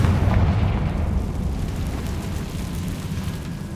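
A Confringo blasting curse explosion in Hogwarts Legacy on PS5: a loud, dense boom that rolls out into a long, rumbling decay, heavy in the low end and fading gradually over a few seconds.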